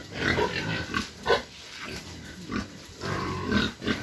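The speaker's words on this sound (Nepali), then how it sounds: "यहाँनिर भएको मान्छे सुँगुरै सुँगुर छ है" Pigs at a piggery farm in Sumbuk grunt and squeal in repeated close bursts, several animals overlapping in a steady, noisy pen din with no talk.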